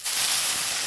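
Water poured into a hot pan of fried lentils sets off a loud, steady steam hiss that starts abruptly and holds for just under a second.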